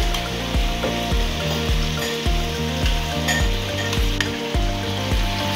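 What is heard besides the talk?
onions sizzling as they fry with chicken in pot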